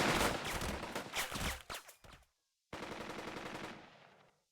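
Rapid bursts of gunfire from the WWI-era tactical leadership game Burden of Command, loud and dense for about two seconds, then a short silence before a steady run of sustained machine-gun fire that fades out.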